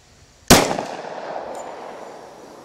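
A single sharp, loud gunshot from a Glock 20 10mm pistol firing a .40 S&W round, with a crack and a ringing decay fading over two seconds, followed by a faint metallic clink.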